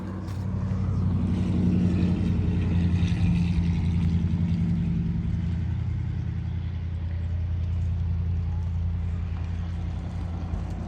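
A Matrix F4 four-seat electric golf cart drives off outdoors, giving a steady low hum and rolling noise at even, moderate loudness throughout, with no talk.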